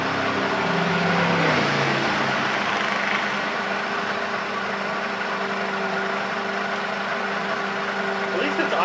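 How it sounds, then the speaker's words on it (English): A Mercedes SLK230 engine idling roughly with a rattle during a spark plug project, a steady mid-level mechanical drone with a light tapping texture, close by and continuous. "At least it's idling."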